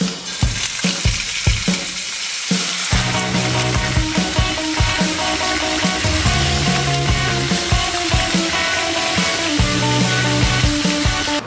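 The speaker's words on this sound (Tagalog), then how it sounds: "So gagawin natin, prito." Chicken pieces marinated in fish sauce fry in a hot pan with a loud, continuous sizzle, punctuated by repeated scraping and clanking as they are stirred.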